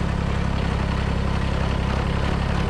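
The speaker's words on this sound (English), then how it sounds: "That sound is the U-joint in the drive shaft." Steady mechanical drone from the U-joint spinning in the drive shaft of a Kubota BX compact tractor with its snow blower raised, a constant close whirring hum that holds level throughout with no speech.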